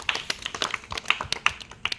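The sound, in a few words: audience clapping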